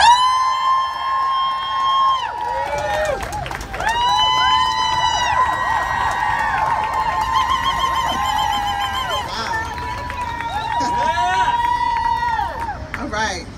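A large crowd at a Me Too survivors' march rally cheers, whoops and shouts continuously, with whistle-like tones and a loud sustained roar that swells and fades over about fourteen seconds.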